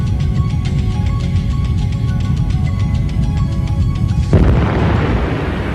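A fuel tank undergoes a BLEVE explosion: a loud, continuous roar of burning fuel builds, then a sudden sharp blast hits near the end and fills the sound with a broad rushing burst.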